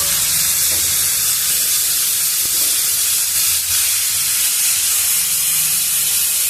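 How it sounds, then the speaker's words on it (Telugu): Finely chopped spinach frying in oil, a loud, steady, close hiss of sizzling with faint clinks now and then. "పాలకూరను కూడా మనము కొంచెం సేపు ఈ నూనెలోనే వేయించుకున్నాము"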